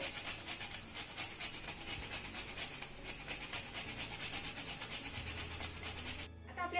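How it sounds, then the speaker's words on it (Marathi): Nutmeg scraped over a grater into a sweet modak filling, a steady close rasping rub that runs continuously with a faint low hum beneath, stopping abruptly near the end. "त्यानंतर थोडस जायफळ यामध्ये मी किसून घालतीये"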